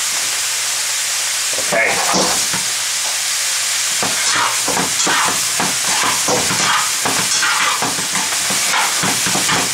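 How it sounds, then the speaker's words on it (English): Spinach sautéing in a pan gives a loud, continuous sizzle and hiss with repeated stirring scrapes, close up, while a person speaks briefly. "we want to saute these pretty good, but not where they're mushy"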